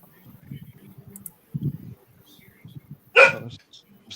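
A puppy at a barn lets out one sharp, close bark near the end, following low mumbling voices and faint background activity.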